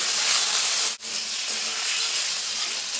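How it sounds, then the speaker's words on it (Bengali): Okra frying in oil with turmeric and salt, heard as a loud, steady hiss that breaks off for a moment and then carries on unchanged. "এখন এই তেলে কিন্তু ভেন্ডিগুলো কিন্তু ভেজে নেব"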